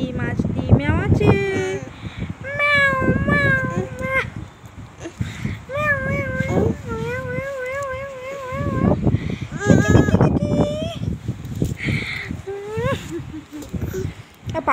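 A cat meows repeatedly in drawn-out, wavering calls at close range, with people talking around it in a relaxed home setting.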